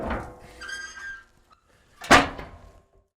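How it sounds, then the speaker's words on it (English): A smoker door cooking barbecue meatloaf is shut with a single solid metallic thunk after some quieter handling noise. "We're gonna shut that down, shut this door, and let her smoke"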